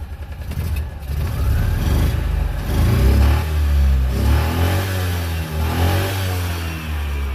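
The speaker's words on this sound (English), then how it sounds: "Let's rev it up a little bit." An engine that has just been repaired and warmed up is revved close by, climbing from idle into several rising, sustained vroom surges before easing back, with no talk over it.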